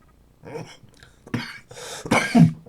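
Several harsh laughter-triggered coughs close up, spaced irregularly and growing louder toward the end, with no speech.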